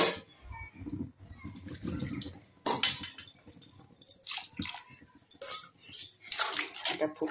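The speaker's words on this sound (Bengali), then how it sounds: "মিক্সি ধোয়া জল টল ছিল সব দিয়ে দিলাম।" Water from rinsing a mixer jar is poured into a pot of fried onion, garlic and curry leaves for egg curry. It gives close splashing and dripping mixed with metallic clinks of a pot and utensil in uneven bursts.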